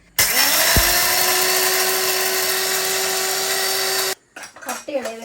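Electric grinder pounding about 750 grams of grain for a nine-grain mix in a Jaffna village kitchen, a loud steady high whine running several seconds before cutting off abruptly, followed by people talking.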